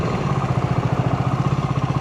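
A motorcycle engine runs steadily with a pulsing, even putter, held at low revs near the rider during a beginner riding lesson, with no talk over it.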